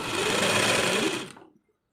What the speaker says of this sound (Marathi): आता ह्याला मी दाब शिलाई मारून घेत आहे.